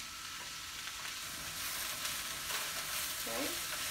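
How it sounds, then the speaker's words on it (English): Chopped onions and garlic sizzle steadily in a hot pan while being stirred, making a constant close frying hiss with soft scraping from the spoon. "Okay, we'll stir those onions in, stir that"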